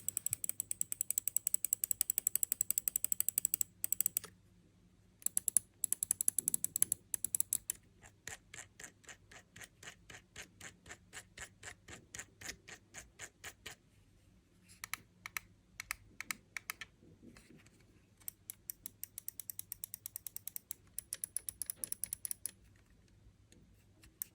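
Sharp, crisp clicks from a Finalmouse Starlight Pro mouse with Kailh GM 8.0 switches, fired in rapid bursts and steady runs separated by short silences, plus ratcheting scroll-wheel ticks, close and isolated in a quiet room.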